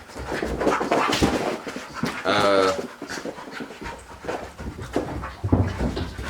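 Dogs pant rapidly and whimper close by, with a short burst of louder yelping midway; no clear distinct barks, and the sound runs steadily through the whole clip.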